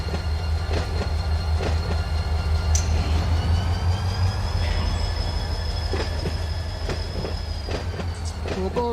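Diesel locomotives in the Run 8 train simulator game, a Burlington Northern 7127 and BNSF 1610 SD40T-2s, rumble steadily with a sustained wheel-squeal tone and intermittent rhythmic clicks of rolling cars.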